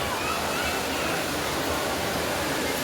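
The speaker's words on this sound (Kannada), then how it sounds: "ಇಲ್ಲೇನೋ ಜಲಪಾತ ಸೌಂಡ್ ಬರ್ತಿದೆ." A waterfall near Coimbatore gives off a steady, loud rushing roar of falling water, continuous and unbroken, with no voices over it.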